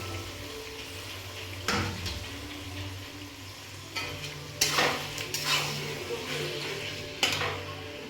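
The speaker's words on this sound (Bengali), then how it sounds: "এবার আমি কেটে রাখা মেটে আর চর্বিটাকে আমি একসাথে দিয়ে দিচ্ছি" Pieces of mutton liver and fat dropped into a pan of fried spices, then stirred with a utensil, giving a soft sizzle broken by a few sharp scraping clatters, close and fairly quiet.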